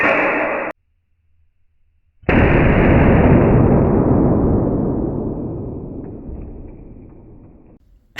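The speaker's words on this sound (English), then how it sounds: "Wow, that was a loud bang." A blank gun fires a 6mm steel ball with one loud, close bang that rings out and decays over several seconds, after a short burst of noise and a silent gap.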